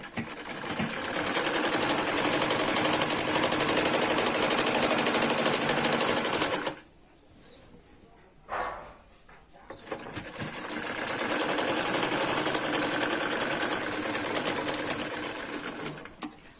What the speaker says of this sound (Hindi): ये हम आसन तक सिल के लेके जाएंगे, फिर दूसरे पैर की तरफ से सिल के लेके आएंगे।